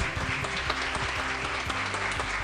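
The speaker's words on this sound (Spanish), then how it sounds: "Fuerte los aplausos para recibir a Milagros Haddad." An audience applauds to welcome a speaker at an Incade event, a brief, steady wash of clapping with faint low hum beneath it.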